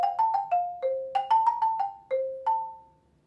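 Marimba notes are struck alone and close in a short phrase, about a dozen clean mallet hits, each swelling toward an accent and then tapering off, with a final note left to ring out.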